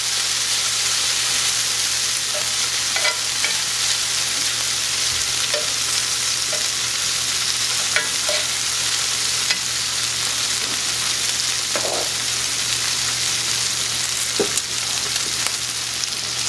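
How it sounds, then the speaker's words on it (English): Beef and shrimp sizzle steadily in a frying pan, left to char hard, with a continuous loud hiss, a low steady hum beneath and occasional soft clicks and pops, no talking. "I'm going to leave my meat here on this pan because I want it to be super, super charred."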